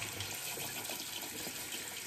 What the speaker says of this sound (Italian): tanto facciamo venire l'acqua calda.